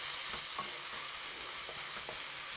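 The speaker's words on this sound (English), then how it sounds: "And we're just going to give these a good stir." Straight-to-wok udon noodles frying in a hot wok make a constant sizzle, broken by soft scraping and tossing sounds as they are stirred; no voices.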